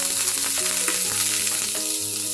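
Chopped garlic fries in already-hot oil for a chilli baby corn dish, giving a steady, close sizzling hiss that runs throughout, with tonal background music playing over it.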